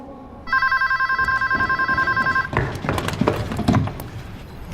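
A telephone bell rings loudly in rapid repeated bursts for about two seconds, then stops and shuffling, knocking movement follows.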